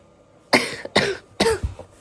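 Severe coughing from a cold: three harsh, rasping coughs in quick succession, close and loud, with a fourth starting at the very end.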